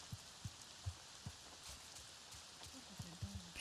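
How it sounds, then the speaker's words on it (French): Gentle rain in the video game Avatar pattering on a surface, quiet and continuous, with a few soft thuds at irregular moments. "Puis il pleut et tout."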